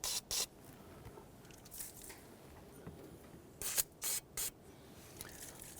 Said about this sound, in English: We're going to spray down the nuts here with some rust penetrant.